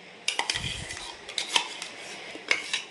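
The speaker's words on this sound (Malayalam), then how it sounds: "ഈ തേങ്ങ, തൈര്, ഈ കടുക് ഇത് അരച്ചത് ഇതൊരു ബൗളിലേക്ക് മാറ്റുന്നുണ്ട്" Ground coconut, curd and mustard paste for okra pachadi being scraped into a bowl, heard as a few sharp metal clinks and scrapes of a spoon against dishes, with a soft low thump near the start.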